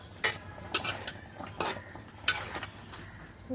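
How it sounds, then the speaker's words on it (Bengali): Fish cooking in a pan is stirred and turned, with four distinct scraping clanks of a utensil against the metal pan over a faint low background. "এখন নেড়ে দিব, একটু মিক্স করে দিব ভালোভাবে। মাছগুলো উল্টিয়ে দিলাম"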